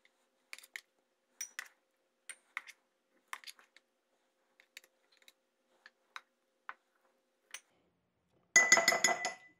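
Spoonfuls of blended homemade chili starter go into glass canning jars: a series of sharp, isolated clinks and taps of spoon against glass, spaced a second or so apart, ending in a denser burst of rattling glass clatter.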